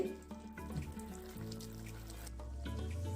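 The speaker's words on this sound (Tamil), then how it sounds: "இப்போ இதெல்லாம் சேர்ந்து ஒரு கொதி வந்துருச்சு." Mango pachadi mixture with sugar water at a boil in a pan, a steady bubbling, hissing wash with a low rumble underneath, close and continuous, no voices.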